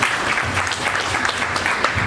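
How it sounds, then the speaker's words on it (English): Audience applause for a kathak dancer and Guinness world record holder at an honours ceremony, a dense steady clapping from a crowd lasting the whole short stretch. "So please clap once for her."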